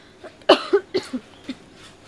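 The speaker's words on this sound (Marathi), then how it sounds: "खोकला चालू झाला लगेच" A woman coughs in a string of about six short, harsh bursts, close and loud, with no other sound around them.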